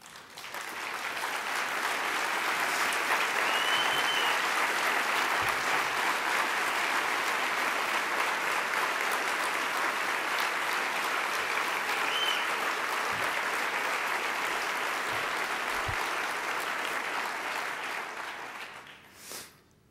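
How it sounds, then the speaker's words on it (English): Audience applause fills a 2013 Childhaven celebration luncheon, a dense, steady clapping from a large room that holds evenly for about eighteen seconds before tapering off quickly at the end. "so we can give you an applause"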